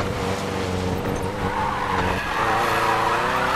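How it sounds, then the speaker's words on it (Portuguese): A Volkswagen Fusca tuned for drifting slides through a turn in Need for Speed Payback, tires screeching steadily over a droning engine, loud and close for the whole stretch. "agora o bicho tá fazendo drift mesmo"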